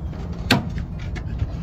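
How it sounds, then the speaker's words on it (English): A single solid thud of a door closing nearby, followed by faint rattles in a quiet room. "don't shut the door on me"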